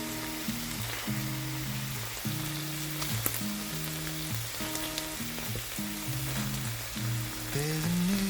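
Potatoes and mushrooms fry together in a pan with a continuous crackling sizzle, partly buried under loud background music with rhythmic low tones.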